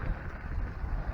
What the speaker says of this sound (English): So, it's actually kind of windy